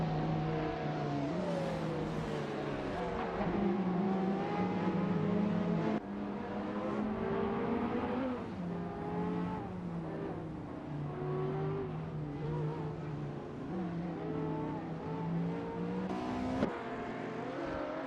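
Hypercars including a Lamborghini Aventador SVJ and an AB Engineering Adonis race in a simulator game, their engines whining steadily and shifting pitch through gear changes and revs, continuous and loud with no talk.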